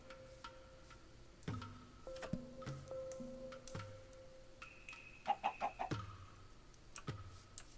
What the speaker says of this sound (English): I don't want to kill those two chickens because they're over there.